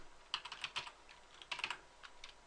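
Keys clatter on a computer keyboard during a Windows command-line password change, typed in two quick bursts of soft clicks with a few stray taps after, close and quiet with no talking.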